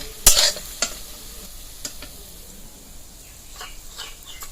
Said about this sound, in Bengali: এই বড়াগুলো আমার ভাজা হয়ে গেছে, এবার নামিয়ে নেব।